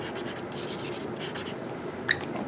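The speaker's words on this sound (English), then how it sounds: "And perhaps this blue, maybe I'll just draw it on there." A blue Posca paint pen drawing over printed vintage paper ephemera, giving a soft, steady rubbing scratch with short repeated strokes and one small tap near the end, close and quiet, no talking.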